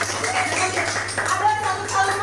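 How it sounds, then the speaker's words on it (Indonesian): A group claps hands in a classroom session, a brisk uneven patter of many hands at moderate loudness, with voices talking over it throughout. "Oke, tepuk tangan dulu."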